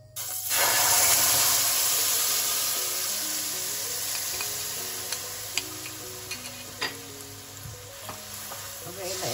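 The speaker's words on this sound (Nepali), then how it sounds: "अब यसलाई एकैछिन, यो पानी सुकुन्जेलसम्मलाई एकछिन भुट्नुपर्छ" A ground spice paste fries in a pan over medium heat to cook off its water, giving a steady sizzling hiss throughout, with scattered ticks and light scrapes of stirring.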